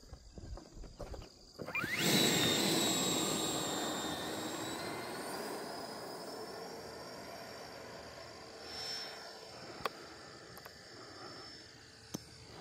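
A Freewing Zeus 90mm 8S electric ducted-fan RC sport jet flies past at dusk. A loud rising turbine-like whine surges close, then fades steadily as it moves away, with a few faint clicks later.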